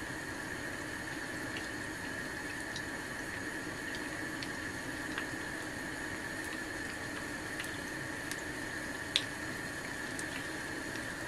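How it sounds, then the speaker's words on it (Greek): Fried food sits draining in a kitchen, giving off a faint, steady background hiss with sparse, soft drips and small ticks scattered across it, quiet and close, with no voices. "Περιμένουμε να στραγγίξει."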